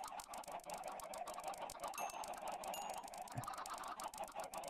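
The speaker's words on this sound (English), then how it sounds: "we got some chickens" A crowd of around 130 chickens in Minecraft clucking together in a dense, continuous chatter, faint but busy, with no voices present.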